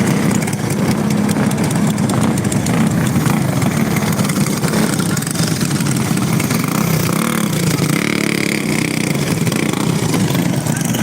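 Several go-kart engines idling and revving on a dirt short track in Hanceville, Alabama before a race, a loud continuous buzzing drone with shifting pitch throughout.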